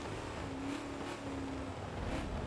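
Ford GT40 engine in the Forza racing game at Mugello, a steady droning hum with a faint rising whine, held at part throttle through a long curve, fairly constant and close with no talk.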